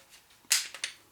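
Glock 19 pistol trigger pulled during takedown: a few sharp mechanical clicks, the loudest one first and two softer ones following, close by with no talk.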